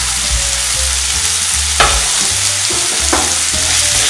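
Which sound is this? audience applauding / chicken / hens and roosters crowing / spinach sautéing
spinach sautéing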